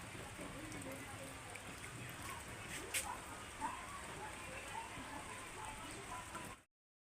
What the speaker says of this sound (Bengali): এই দেখো বৃষ্টি হচ্ছে অসময়ে, এখনই রৌদ্র ছিল, দেখো কি বৃষ্টি।